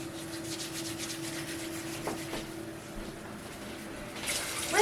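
Oily, salted hands rub together in a soft, continuous, close swishing, with faint watery undertones and a slightly louder rustle near the end.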